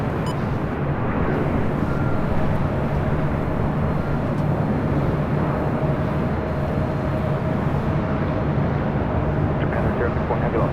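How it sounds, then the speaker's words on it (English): A Qantas Airbus A380 on an afternoon arrival into LAX's north side, runway 24 right, gives a continuous rumbling jet roar with a faint steady whine above it, holding at a constant level with a voice talking over it. "our first A380 arrival here. Qantas Flight 11, now an afternoon flight"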